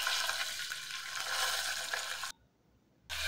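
Bay leaf and onion fry in a pan with a steady bright sizzle and light stirring. The sound cuts out briefly, then resumes.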